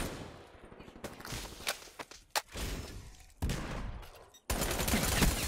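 Suppressed Peacekeeper submachine gun fire from Black Ops 3 comes in uneven bursts of muffled shots. Thuds and shuffling movement fill the gaps, and the firing grows denser toward the end.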